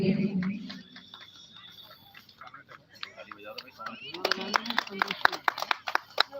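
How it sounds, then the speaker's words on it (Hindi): Scattered clapping from an audience at a UP Police passing out parade, sparse and uneven at first, then growing into louder, sharper claps, with voices heard during the quieter opening. "आपकी तालियां क्यों कम हो रही हैं?"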